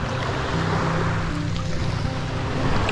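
Sea waves wash steadily onto a clear-water beach, a continuous broad rush with wind noise buffeting the microphone, loud and close throughout.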